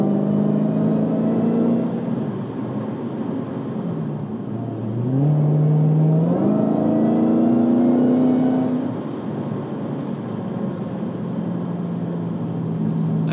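A 2019 Dodge Challenger SRT Hellcat Redeye engine and exhaust roar loudly and continuously as the car accelerates, the tone climbing in pitch midway before settling back, with no talking.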